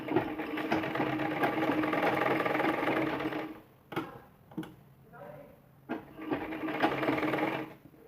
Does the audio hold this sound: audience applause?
no